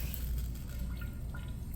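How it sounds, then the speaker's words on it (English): Deionized water is drawn up through a pipet while rinsing suds out of laboratory glassware, giving faint, soft liquid trickles and drips against a quiet room, with no talking. "So I'm gonna now suck up water, and we're trying to get rid of all that suds."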